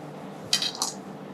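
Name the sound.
knife cutting into hazelnut praline crunch cake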